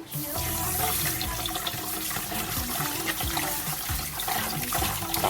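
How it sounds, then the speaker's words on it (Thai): Pork liver being rinsed under a running kitchen tap, a continuous loud rush and splash of water into a sink with bits of handling, no talking. "แล้วเราก็ไปล้างน้ำเปล่าออกได้เลยครับ เราจะล้างน้ำทิ้งไปประมาณ 2 น้ำเลยนะครับ"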